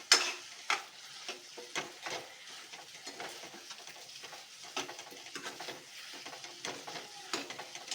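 Chicken dry fry with curry leaves and chopped coriander leaves stirred in a pan, a soft sizzle under repeated rhythmic spatula scrapes and light taps, close and fairly quiet, with no talking.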